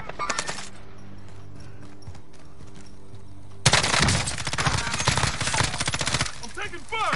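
A video game firefight breaks out with loud, rapid bursts of automatic gunfire that start abruptly midway after a quieter stretch, then continue as a dense, rattling volley.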